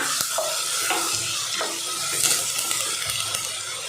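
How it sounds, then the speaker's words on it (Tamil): Onion, tomato and ginger-garlic paste sautéing in a pan for chicken kuzhambu, a steady close sizzle broken by repeated scraping stirs of a spoon against the pan, with no voices. "வெங்காயம், தக்காளி நல்லா வதங்கி இஞ்சி பூண்டோட பச்சை வாசனை போகணும், அது வரைக்கும் நல்லா வதக்கிக்கலாம்."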